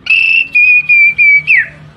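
A child's high, clear whistled songbird imitation: a long steady note, then several shorter whistles in a rhythmic series, ending in a downward slide, close and loud.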